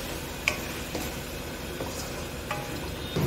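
Panch phoron and whole cumin seeds crackle and sizzle in hot oil for a fish curry, a steady frying hiss with a few soft pops and stirring taps, close and alone.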